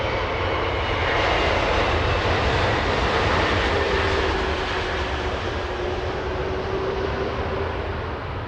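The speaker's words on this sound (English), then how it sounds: "Delta Airlines Delta 480 flying to Honolulu" A Delta Airlines jet at Los Angeles International Airport bound for Honolulu, its engines giving a loud, sustained roar with a rising whine, steady throughout and close by.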